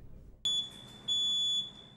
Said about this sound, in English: There's no question a working smoke detector like this can save lives in the event of a house fire.